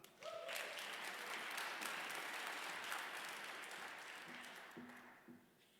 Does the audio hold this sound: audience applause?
yes